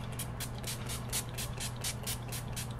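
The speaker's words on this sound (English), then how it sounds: "I'm going to use my favorite NYX Matte Finishing Setting Spray." NYX Matte Finishing Setting Spray misted onto a face in a series of short, rhythmic pump bursts, each a soft close hiss, repeated about a dozen times over a low steady background hum.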